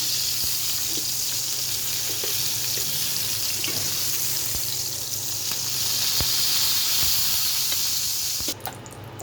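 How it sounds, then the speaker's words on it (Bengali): Potatoes fry in oil in a pan, a steady, loud broadband sizzle that holds evenly throughout with a few small pops and a brief shift near the end. "এখন আলুটা বেজে নেব আলুটা লাল লাল করে বাজে"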